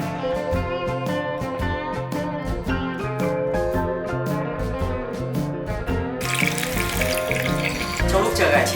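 Cheese-stuffed chicken rolls in cordon bleu style, pinned with toothpicks, fry in oil with a loud, constant crackling sizzle that swells louder toward the end, accompanied by background music.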